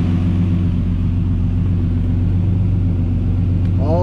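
A turbocharged BMW E34 engine idles steadily while warming up after cooling system work, a close, constant low rumble with an even pulse and no talking.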